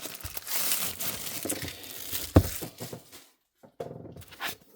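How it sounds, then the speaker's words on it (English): Plastic wrapping pulled off a Moreart parking garage diorama, with loud, close crinkling and tearing for about three seconds, a sharp snap midway, then a short silence and a few softer rustles. "Take out the plastic"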